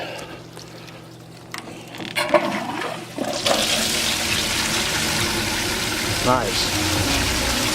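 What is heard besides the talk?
water flowing from a Keene A52 highbanker pump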